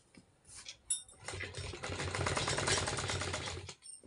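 A sewing machine runs a straight seam on a salwar, a close steady mechanical whir and rapid needle clatter that builds up after a few handling knocks, running for a few seconds and then stopping.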